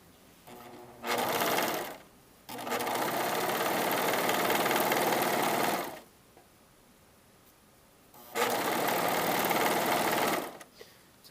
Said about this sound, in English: So I just serge these all like they're still connected